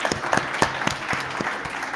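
An audience at a live hardware-collective panel gives a round of applause for the speakers, with brisk, scattered clapping from a modest crowd that holds steady for about two seconds.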